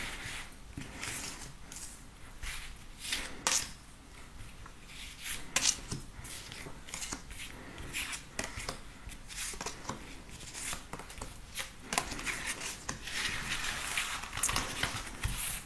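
Tarot cards are shuffled for a reading, giving repeated soft papery riffles and slaps in irregular bursts, close and moderately quiet, with brief pauses between handfuls.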